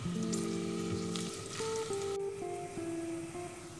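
Sliced onions frying in hot oil give a steady, soft sizzle beneath sustained melodic tones. No one speaks.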